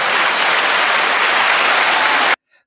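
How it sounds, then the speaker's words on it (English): A dense burst of applause from an audience on a talk show, loud and steady for about two seconds before cutting off abruptly into near silence. "No, it was a set of applause."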